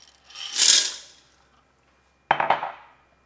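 Dry penne pasta poured into a pressure cooker pot, a bright rattling clatter swelling and fading for about a second, then after a short silence a second shorter burst of hard pieces tumbling against metal.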